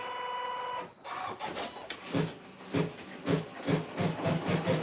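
A sewing machine threaded with yellow thread starts up again after a pause and runs into a fast, even mechanical chatter of stitching, close and fairly loud, with no talking.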